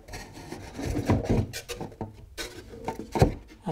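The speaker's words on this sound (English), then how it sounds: "hopefully this should lay in there okay on top of those pieces of timber" A wooden model railway landscape piece being set down onto timber pieces on a bench, making close, irregular wooden knocks, scrapes and rubbing bumps that come in short bursts with quiet gaps, no talk.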